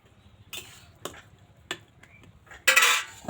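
Salted jackfruit being stirred in a pot, a handful of sharp spoon scrapes and clacks against the metal spaced unevenly, ending in a louder, longer scrape.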